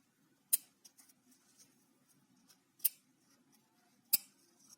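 Scissors cut out the zipper of a pair of trousers, with three sharp, close snips spaced a couple of seconds apart and faint fabric rustling between them. No one speaks.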